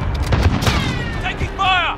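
Video game gunfire crackling in quick bursts through a short firefight, close and loud, with a game voice calling out over the shots.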